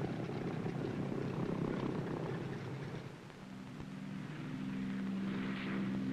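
A U-1 Otter propeller aircraft taxis and takes off, its engine a steady, loud drone with a broad roar that dips briefly, then rises again as a tonal propeller hum grows stronger.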